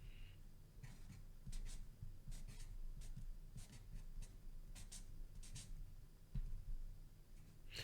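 Close, quiet pen-on-paper writing by hand during a Lithuanian lesson, with irregular scratchy strokes and short bursts of scribbling spread steadily across the whole stretch, no talk over it.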